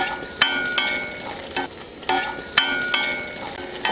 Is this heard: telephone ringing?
no